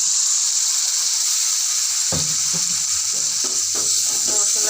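Water poured into a pan of spice paste with cardamom, cinnamon and bay leaves cooking for a hilsa fish curry, giving a loud, steady sizzle that flares with bursts of bubbling and stirring partway through.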